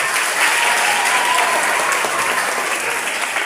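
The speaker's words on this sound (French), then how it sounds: "applaudissez s'il vous plaît" Audience at a school competition grand final applauds, a dense, steady wash of clapping from many hands that holds evenly throughout, with faint voices mixed in.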